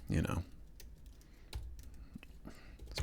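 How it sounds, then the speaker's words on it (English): Typing on a computer keyboard, with bursts of sharp key clicks and short pauses between them, close-miked, and a person speaking at the start and again near the end. "not typing super well"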